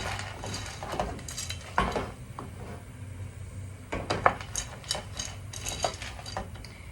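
Clinks and taps of cutlery against a pot as frozen green beans are stirred, a few sharp, irregular strikes over a low background hum, close and moderately loud.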